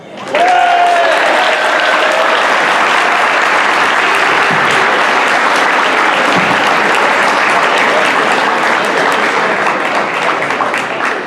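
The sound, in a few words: audience applause for student of the month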